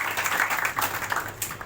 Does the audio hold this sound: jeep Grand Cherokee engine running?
no